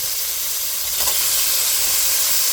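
Beef pieces searing in a hot pan for a Nagashima beef stew, a loud, continuous bright sizzle and hiss with a faint stirring shuffle partway through, up close and without talk.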